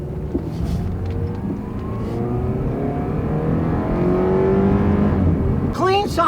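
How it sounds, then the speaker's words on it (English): A Honda four-cylinder car engine revs up steadily, its pitch climbing smoothly through a gear, then briefly dropping before rising again near the end. "Clean sounding engine, smooth shift."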